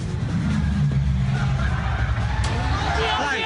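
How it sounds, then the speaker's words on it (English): A car doing a burnout outside a city-centre hotel, engine revving hard and roaring steadily up close, with crowd babble in the background. "Watch as this car does a burnout just outside a CBD hotel"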